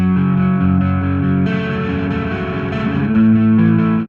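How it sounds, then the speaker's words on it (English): Heavily distorted electric guitar picked up by an SM58 microphone behind an open-back cabinet, sounding thick and bass-heavy as sustained chords ring out loudly and continuously, with a denser, busier passage in the middle. "chuck an SM58 in the back of the open cab of the electric guitar"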